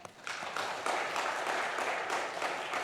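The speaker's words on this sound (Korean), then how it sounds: "예, 박수 한번 치세요. 박수." Steady congregation applause during a Korean church worship service, a continuous dense patter of many hands clapping throughout, moderately loud with no speech.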